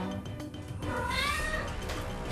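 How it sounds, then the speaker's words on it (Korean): A cat makes a short rising, rolling chirp close by, a trill blending into a soft meow, over quiet room background. "트릴링이라고 하는 약간 고양이가 뭔가를 기대할 때 내는 소리"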